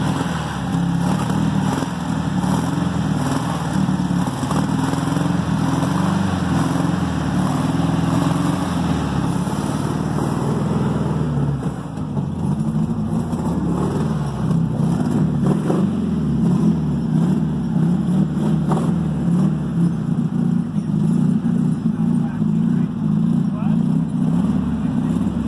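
An engine runs in a home-built dung beetle car, a steady, loud, rough drone lasting throughout with only slight shifts in pitch and no pauses.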